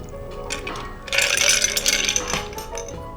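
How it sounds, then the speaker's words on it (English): A grapefruit vodka cocktail is strained from a shaker into a stemmed glass, with a light metallic rattle followed by a steady splashing pour lasting about a second, close and without speech. "We're gonna take our drink, strainer, pour that straight in."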